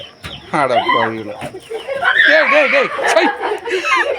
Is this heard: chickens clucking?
yes